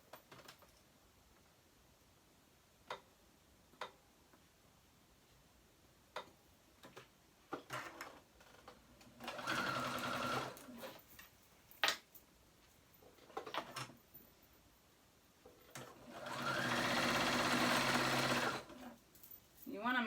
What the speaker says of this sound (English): So I'm going to sew that on to my neck